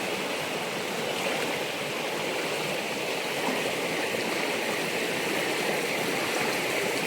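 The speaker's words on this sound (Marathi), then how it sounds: "आता पावसाळा सुरुवात झाली आणि आता नदीला पाणी आलेलं आहे" Steady broadband rush of a river running full with early monsoon water in the Konkan countryside, continuous and close with no voices over it.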